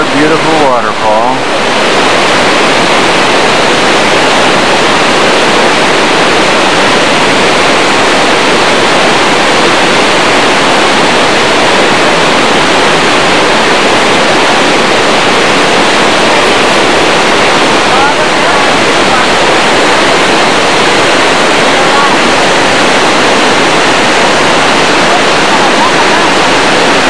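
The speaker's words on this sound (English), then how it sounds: "On the way out of Yosemite, another beautiful waterfall." Near Cascade Creek on the way out of Yosemite, a waterfall roars steadily and loudly for the whole stretch as a dense, unbroken rush of falling water close by.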